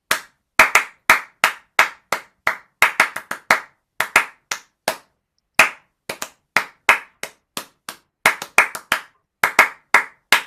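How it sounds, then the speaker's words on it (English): Bare hands clap out the rhythm of Deck the Halls, a sequence of crisp, close, loud claps grouped into phrases with short pauses between them, with no voices. "if I clapped it, you might recognize it"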